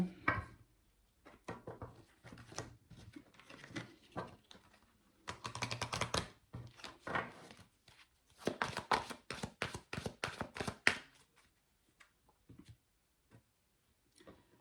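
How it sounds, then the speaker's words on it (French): Tarot cards being reshuffled by hand, bursts of rapid riffling and flicking card taps in several runs with pauses between, close and clear with no talk. "On va remélanger les cartes, rebattre les cartes."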